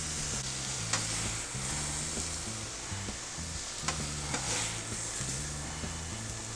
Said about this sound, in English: Now what we do is cut it up into strips again. Just use your knife and your spatula.